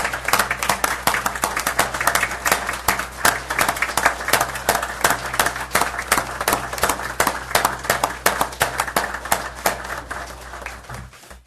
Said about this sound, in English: a round of applause and a standing ovation for our firefighters